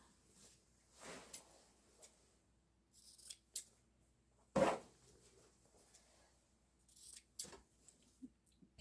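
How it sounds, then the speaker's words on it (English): Scissors snip the corners of a fabric apron in several quiet, close, separate cuts spread out with pauses between them, and one sharper snip stands out in the middle. "I'm just going to snip each of the corners to reduce that bulk"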